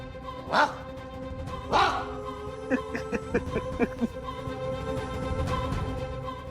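A dog barks sharply twice, then lets out a quick run of shorter yips and barks, fairly close, with a steady background hum.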